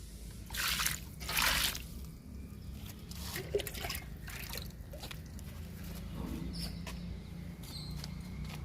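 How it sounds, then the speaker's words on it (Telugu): Water poured onto a Kashmir rose growing in a potted tub, a soft, steady trickle and dribble close by with a brief louder splash near the start, no talking. "కాశ్మీర్ గులాబీకి వాటర్ ఇస్తున్నా."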